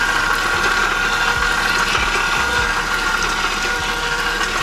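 An electric mixer blends boxed lemon pound cake batter with a steady, loud whirring drone and a slight rattling vibration, continuous throughout.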